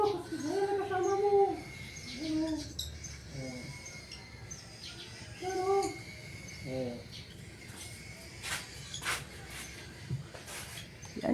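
Pet birds chirp and call in short repeated bursts just after being fed, a mix of tweets and cooing notes near and moderately loud, with soft background noise and brief clusters of higher calls.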